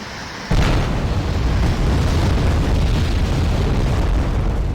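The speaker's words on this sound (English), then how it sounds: "That's a better bomb." A bomb blast in the war strategy game Wargame: Red Dragon bursts in suddenly after a brief quiet, then rolls on as a loud, dense, rumbling roar that fills the remaining seconds.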